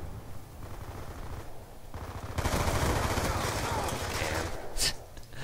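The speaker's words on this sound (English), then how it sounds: "Apparently, hip firing doesn't work as much as I want it to." Kap-40 machine pistol hip-fired in Call of Duty Black Ops 2, a rapid burst of game gunfire swelling midway and rattling on amid background game noise, with a short sharp crack near the end.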